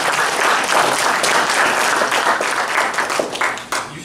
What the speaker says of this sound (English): By the way, round of applause.